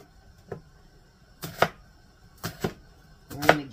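A knife dices an onion on a cutting board, making a few close, sharp chopping knocks that come singly or in pairs with short pauses between them.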